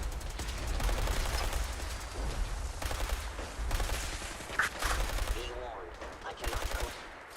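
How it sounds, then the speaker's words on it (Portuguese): Gunfire from the Fallout 4 video game, rapid bursts of shots and automatic fire rattling on and off through the stretch, fairly quiet in the mix with some background sound. "Essa é a primeira vez que eu levo tiro de alguém nessa missão."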